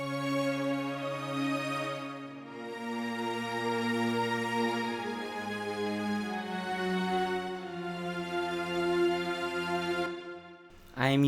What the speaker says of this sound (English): I added a string section